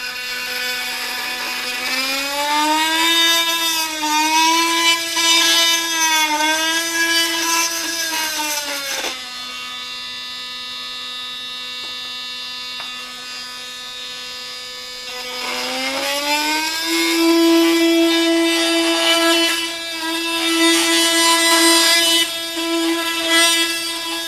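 A Milwaukee M18 FUEL cordless oscillating multi-tool with a Pro Curve blade cuts steadily at automatic speed, giving a loud, close, buzzing whine whose pitch dips as the load changes partway through, then rises again.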